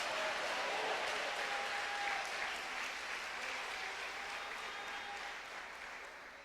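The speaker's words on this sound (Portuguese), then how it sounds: "Quem está recebendo pode dar uma salva de palmas ao Senhor." A church congregation claps in steady, sustained applause to the Lord during a sermon, dense clapping that slowly tapers off, with faint voices mixed in.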